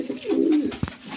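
A pigeon gives one soft, low, rolling coo close by, followed by a short quieter note, with no talking.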